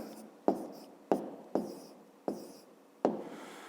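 Pen strokes on paper in a fifth-grade maths lesson, five sharp taps each trailing into a short scratch, spaced irregularly and heard up close in a quiet room.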